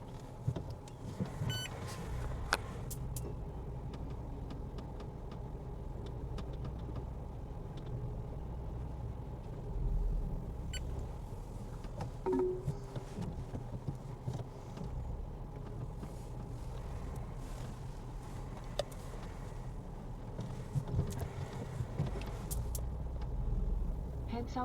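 An SUV cruises along a city road in India. Steady engine and road rumble fill the cabin throughout, with faint clicks and rattles, and a voice speaks now and then.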